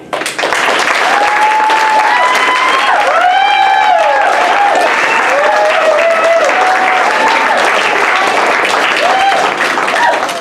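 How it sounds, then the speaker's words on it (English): Audience applause for a performer at an improv comedy show, steady dense clapping sustained throughout with a crowd's cheers and a voice calling out over it. "let's give a round of applause to Desiree"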